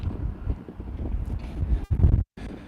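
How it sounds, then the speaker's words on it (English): Gusty wind buffets the microphone outdoors in rumbling low bursts, loud and close, with a brief dropout near the end. "it's a little windy here"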